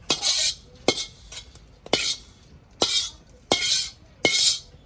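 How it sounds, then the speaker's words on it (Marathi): Onion is being roasted in oil in a pan for Maharashtrian masswadi, with a spatula stirring in regular strokes: six sharp bursts of scraping and clinking roughly every second, separated by a quieter background sizzle. "आता आपण कांदा भाजून घेत आहे"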